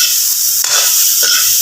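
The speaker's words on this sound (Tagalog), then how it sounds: "Karon pa siguro mo kitag saging na gigisa." Leftover bananas sautéing in a pan, a loud, steady close-up hiss and sizzle with a couple of brief stirring scrapes, and no speech.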